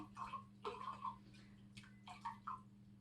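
Water drops and small pours trickle into a glass set on a kitchen scale, a few short splashy bursts with brief pauses between, quiet and close, no talking.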